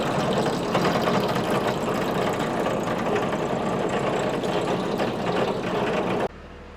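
The blades of a JF1260 forage harvester are being sharpened, a steady loud mechanical drone with a rapid rattling grind running continuously, then cutting off abruptly near the end.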